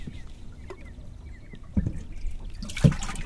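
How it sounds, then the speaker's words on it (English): Water trickles faintly and steadily into a bass boat's live well, a low wash with a couple of small knocks and splashes near the end. "Got water in the live well"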